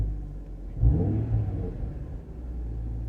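A Chevrolet Camaro RS V6 1LE engine idles nearby with a deep, steady rumble that briefly swells as if given a light blip, then settles back. No one speaks.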